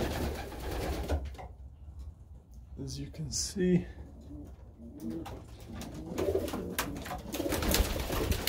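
Soft pigeon cooing near the middle, over a noisy background with a person talking.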